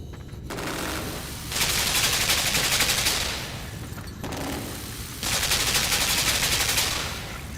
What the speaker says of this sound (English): Are we really going backwards into the machine gun?